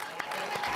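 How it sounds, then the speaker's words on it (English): A crowd claps in a brief burst of applause for a boxer, a dense continuous wash of hand claps heard for under a second. "so give him a round of applause"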